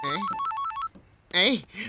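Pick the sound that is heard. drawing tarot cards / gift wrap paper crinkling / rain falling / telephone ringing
telephone ringing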